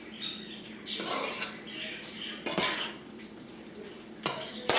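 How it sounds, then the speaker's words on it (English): Spoon scraping and clinking against a metal pot as chicken and rice with sofrito are stirred, giving a few sharp knocks among soft scraping, close and fairly quiet. "You just keep stirring it until it gets all that flavor in there."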